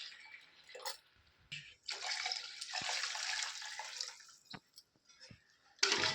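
Water is poured into a pot of rice and chicken for biryani, giving a few short splashes followed by a longer steady pouring rush and then scattered drips, close and fairly quiet.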